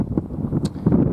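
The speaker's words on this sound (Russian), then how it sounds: "Ветер, огромнейшей силы ветер," Heavy wind by a river and lake buffets the microphone in rough, low rumbling gusts over a brief moment, with a short rustle partway through.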